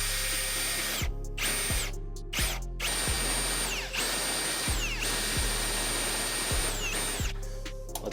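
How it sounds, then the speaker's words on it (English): A power drill cuts a hole through the car body of an Evo 9 for a trunk-mounted battery cable, its motor whining steadily in repeated bursts. Each burst ends in a sharp drop in pitch as the bit slows or breaks through. "I'm going to cut a hole right here."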